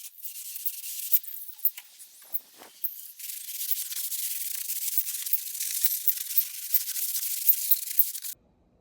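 A carbide scraper scrapes leftover white paint from cracks and crevices, producing a harsh, hissy rasping that pauses briefly then continues steadily with rough strokes, close up with no talking.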